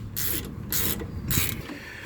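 Bolts being tightened on the rear brake of a Ford F-150 pickup, a ratcheting wrench clicking in three bursts of about half a second each with short pauses, close and fairly loud, no talking.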